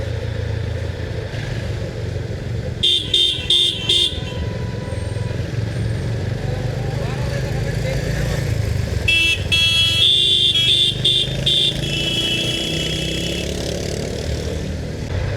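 Steady road traffic on a national highway in the Haridwar region, with engines rumbling throughout and two clusters of loud, repeated horn blasts from nearby vehicles.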